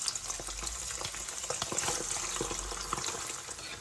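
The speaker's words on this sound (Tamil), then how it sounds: "அடுத்து சிக்கனை போட்டு பொறிச்செடுக்க போகிறேன்" Chicken pieces, boiled first and now browning in hot oil with curry leaves for chicken sambal, sizzle and crackle in a continuous close, dense hiss with small pops, and no talk over it.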